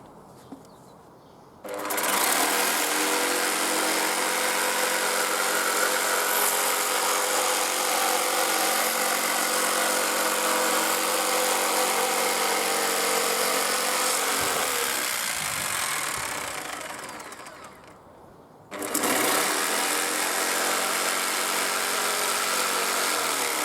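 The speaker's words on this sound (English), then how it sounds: "I would stand on that side when I'm using this jigsaw" A jigsaw cutting small corner pieces out of wood for a flower box: a loud, steady buzzing whine that starts after a short pause, runs about thirteen seconds, dips and stops, then starts up again.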